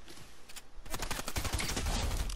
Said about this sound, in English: My little pistol, I shall destroy them.